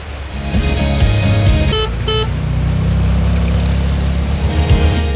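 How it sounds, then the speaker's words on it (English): Short car horn toots sound twice in quick succession over steady engine and traffic rumble on an Italian street, loud and near, with a car passing in the mix. "you will hear honking when people turn and cross, to give notice."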